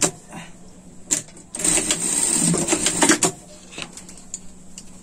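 A sewing machine runs a short burst of rapid stitching, about two seconds long, to lay a reinforcing seam on a fabric pet sling bag, with quiet handling clicks before and after.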